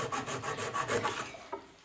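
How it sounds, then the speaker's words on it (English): Flush cut saw cutting through wooden 2x4 stock on a workbench, a close, steady series of rasping back-and-forth strokes that trails off at the end. "Okay, now I'm taking my flush cut saw."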